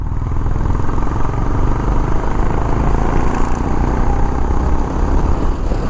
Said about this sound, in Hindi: ये था एग्जॉस्ट नोट इसका जो तीसरे गियर में निकला